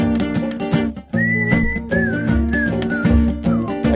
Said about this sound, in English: Let's do a whistle.